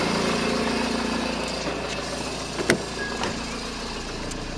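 A car engine runs steadily with the drive wheels lifted off the ground while a Fleming gearbox is tested, a continuous close mechanical drone with a brief knock near the end.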